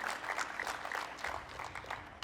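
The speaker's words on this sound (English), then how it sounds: "Big applause to them" Brief, fairly quiet applause from a seated audience at the dedication ceremony for Argonne's Advanced Photon Source, a short burst of scattered clapping.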